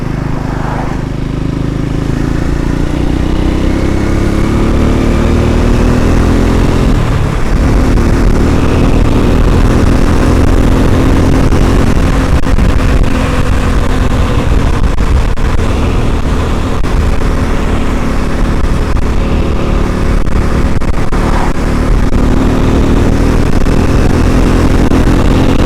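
A Triumph Scrambler 400 X motorcycle engine drones steadily while riding in fifth gear at around 30 miles an hour and pulling up toward 50, loud and constant, with heavy wind rush throughout.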